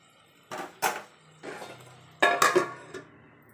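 A metal spoon scrapes and clinks against a pan while brinjal and potato curry is stirred, several distinct bursts of clatter spread across a few seconds with short pauses, close and fairly loud, no talking.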